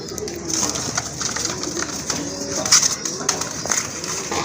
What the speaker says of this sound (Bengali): খুবই অ্যাক্টিভ এক জোড়া কবুতর